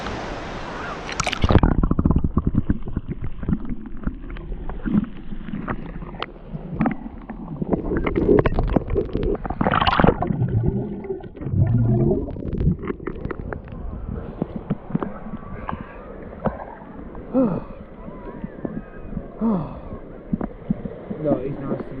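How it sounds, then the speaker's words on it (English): Muffled underwater sound of the sea at Barmouth, with dull sloshing, gurgling and low rumbling water movement continuing throughout, louder near the start. "Give you a look under the water."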